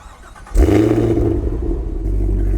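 A 2025 Cadillac Escalade V fires its exhaust with a sudden loud rev, then settles into a deep, heavy rumble that carries on close by.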